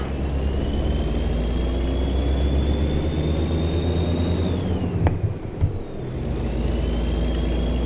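A truck engine in American Truck Simulator drones loud and steady with a rising turbo whine, then dips briefly with a hiss and a clunk before the whine climbs again.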